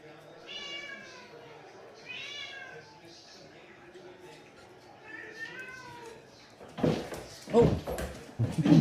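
A cat meows several times in drawn-out, rising-and-falling cries, moderately close, followed by louder thumping and clatter at the end.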